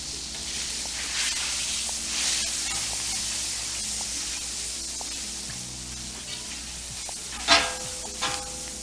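Oil sizzles and hisses steadily on a hot Blackstone griddle while making breakfast sandwiches, a continuous close frying crackle with a sharper flare of spattering near the end.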